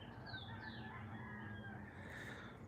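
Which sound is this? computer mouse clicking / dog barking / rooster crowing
rooster crowing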